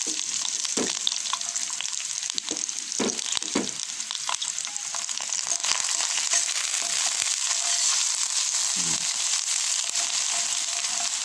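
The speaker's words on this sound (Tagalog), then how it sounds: "Ilagay na natin ang red onion. Medyo lamsik ang mantika" Red onion frying in hot, splattering oil in a pan for beef tomato pasta sauce, a loud steady hiss with scattered pops and a few stirring scrapes, close up with no voices.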